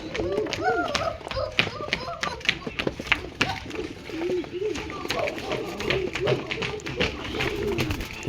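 Pigeons of mixed local breeds, including Mukhi, Deshi, Giribaz, Dhakaiya and Mayuri plus crosses, coo repeatedly in a breeding loft, overlapping rolling calls mixed with sharp taps and wing flutters at close range.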